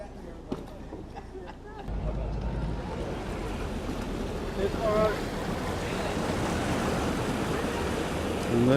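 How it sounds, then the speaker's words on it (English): Water rushing through Abingdon Lock on the river as the gates open, a steady broad roar of flowing water with wind noise, a brief louder surge near the start, continuous and fairly close. "And there we go, Abingdon Lock in action."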